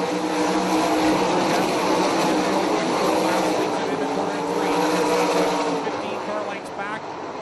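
360 winged sprint cars race around a dirt oval during an A-Main, their loud engines roaring steadily with pitch shifts as cars pass, while an announcer commentates over the racing.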